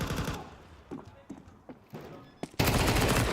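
MAC-10 fire in a Counter-Strike match on the Anubis map, heard as several sharp, separate shots in a loose rhythm, then a sudden loud, dense burst of continuous gunfire at the end; no talk.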